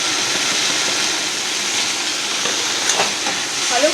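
Green mango and okra frying together in a pan for a Bengali sour dish, giving a steady, close hiss of oil sizzling with a few faint clinks near the end.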